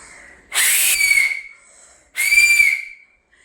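A person whistles two long, shrill blasts, close and loud, separated by a short pause.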